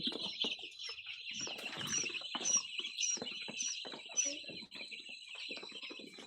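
Six-day-old tiger breed chicken chicks give a steady, close chorus of high, rapid peeping chirps that runs without a break, with soft rustling and shuffling of the chicks underneath.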